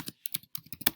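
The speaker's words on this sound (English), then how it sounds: "I'm just going to go ahead and type in" Rapid keystrokes on a computer keyboard come as a quick, close run of about a dozen light clicks packed into a single second, with no voice over them.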